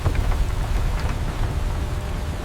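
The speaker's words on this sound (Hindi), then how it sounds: "बारिश शुरू हो जाती है।" Rain falling steadily, a dense hiss of drops pattering on surfaces with a soft low rumble underneath, a storm setting the mood in a spoken horror tale.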